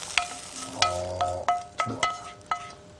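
Stir-fried vegetables are scraped and moved out of a frying pan with a series of sharp utensil knocks and clinks over a faint sizzle, close and fairly quiet.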